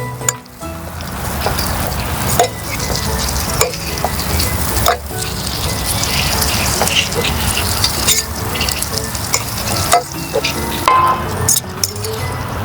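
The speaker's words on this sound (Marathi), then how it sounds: "याला एक चांगला मिक्स देऊया आपण." Washed poha (flattened rice) being stirred in a frying pan, with repeated scraping and clinking strokes of a spoon over a steady sizzle, loud and close.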